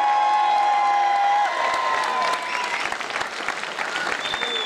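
Audience applause at an autoslalom prize ceremony in Ucria, a dense steady patter of many hands with faint cheers and a whistle, near and continuous throughout.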